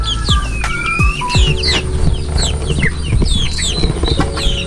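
Young gamefowl chickens cluck and chirp busily at close range, with bursts of wing flapping scattered through the steady flock noise.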